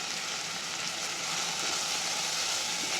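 Spices with chilli powder and asafoetida sautéing in a pan for a dhaba-style rajma, a constant bright sizzle and crackle held at an even level, close by.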